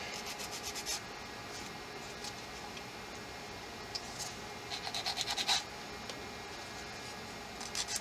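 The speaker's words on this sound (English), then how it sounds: "And sand these down." Sanding plastic parts of a British self-propelled howitzer model kit: faint, close scratchy rubbing strokes coming in short bursts, with quiet gaps between them and no speech.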